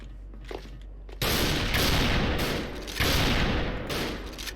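SV98 sniper rifle gunfire in the Special Force online shooter game, loud close blasts with sharp onsets, two main shots about two seconds apart, each followed by a long rumbling decay.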